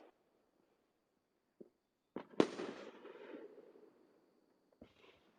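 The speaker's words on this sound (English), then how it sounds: "that was a mortar went off just then" A fireworks mortar launches and bursts outdoors in Tennessee, with a couple of small pops before one loud blast that rolls and echoes off, then a fainter distant pop near the end.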